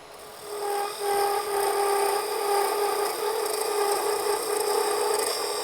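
A spindle roughing gouge with nipped corners turns wood on a lathe, giving a continuous, steady scraping and rubbing hiss with a faint tonal whine, close and even throughout.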